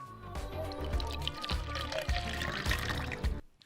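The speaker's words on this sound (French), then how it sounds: "Versons-la dans un gobelet gradué et voyons combien d'eau il reste." Water squeezed out of a soaked disposable diaper pours into a measuring cup with a continuous, close splashing trickle that lasts a few seconds before stopping abruptly.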